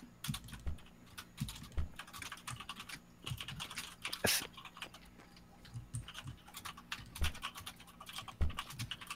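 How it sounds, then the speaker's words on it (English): Rapid typing on a computer keyboard during a co-op session of the game Eco, with dense, uneven bursts of clicking keystrokes, fairly close and without speech. "Oh, she's typing up a storm."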